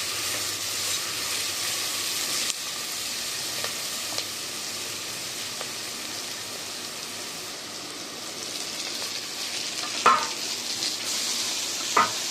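Manathakkali greens sautéing with crushed garlic in a hot pan, a steady close sizzle with occasional scrapes and clinks of a stirring spoon, a brief louder clatter near the end.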